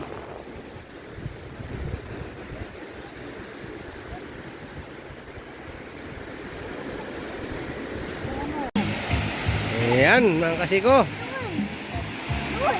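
Rough sea churns with steady broadband wash and wind buffeting the microphone near moored fishing boats on the West Philippine Sea, and someone talks over it near the end.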